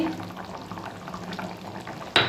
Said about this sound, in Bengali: এবার নাও একটু ঘি দিচ্ছি